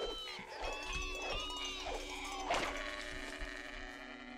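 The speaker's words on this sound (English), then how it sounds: "it's a she sheep" A sheep bleats several times in quick succession, close and fairly quiet, with rustling footsteps and faint background noise around it.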